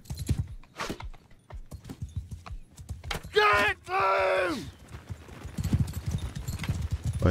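Horses' hooves clip-clop rapidly under a Mount & Blade II: Bannerlord game soundtrack as mounted archers ride, with a brief shouted line and a drawn-out horse-like cry in the middle.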